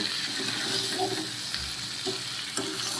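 Chicken leg pieces being stirred while they fry in a pan for a spicy village-style kosha: a steady sizzle broken by a few scraping stirs, close by, with no talking.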